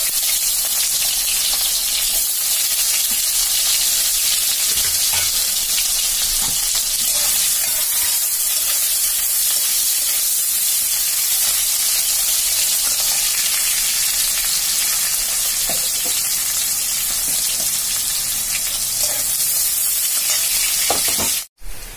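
Onions frying in a pan with lentil bori for a spicy gathi kochu (taro) curry, a steady, close, loud sizzle with dense hiss running unbroken throughout, ending in a brief clatter.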